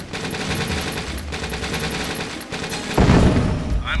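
Dense battle gunfire in Command & Conquer: Tiberian Sun, steady rattling machine-gun bursts throughout, swelling into a louder, booming barrage toward the end, with no talking.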